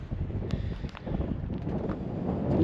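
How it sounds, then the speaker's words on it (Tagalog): Strong gusts buffet the microphone with a low, rumbling roar that builds toward the end, no voices present. "Medyo malakas ang hangin"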